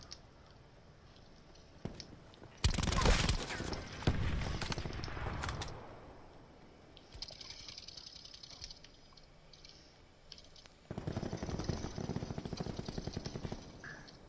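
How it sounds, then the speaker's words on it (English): Video game gunshots crackle in rapid, loud automatic bursts, one cluster early and another later, separated by quieter stretches of game ambience. "I hear all these shots, but I can't see nobody."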